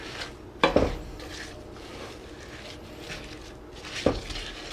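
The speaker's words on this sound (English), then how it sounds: "Mix them all up in there." Pecans being mixed into cookie dough in an iron skillet, with two sharp utensil knocks against the pan and soft scraping and stirring in between, close and fairly quiet.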